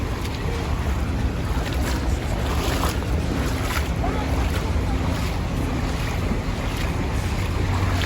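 Flood water fills a subway passage, with a steady, loud wash of sloshing water and wind-like rushing that continues without a break.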